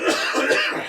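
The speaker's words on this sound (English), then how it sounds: "he coughs too much on the show" A man coughs several times in quick succession, harsh and close, the bursts bunched together with a slight throat-clearing quality.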